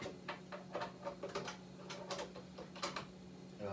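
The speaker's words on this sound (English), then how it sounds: "Now, I can put the bolt back in here." A rifle bolt goes back into a Remington 700 chambered in 7mm Rem Mag, with a string of close, sharp metallic clicks and clacks in an uneven rhythm over a low steady hum.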